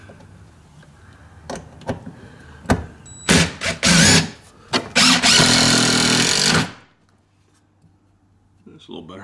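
A power drill drives long screws into a garage shelf, giving several short whirring bursts and then one sustained loud drilling run, up close, before quiet returns with faint handling noises.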